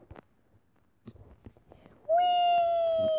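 A cat meows once in the video game Minecraft, a loud sustained tonal call after some faint clicks and shuffling sounds.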